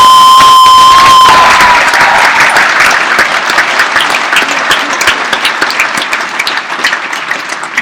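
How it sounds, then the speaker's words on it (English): A large graduation ceremony audience applauds the graduating class, loud and sustained with some cheering near the start, then settling into steady, slightly thinning clapping. "please join me in one more round of applause for this year's outstanding graduating class"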